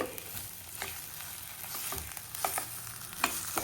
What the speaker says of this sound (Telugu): తాలింపు వేసుకొని కలుపుకున్న తర్వాత ఇప్పుడు ఇది స్టవ్ ఆఫ్ చేయడమేనండి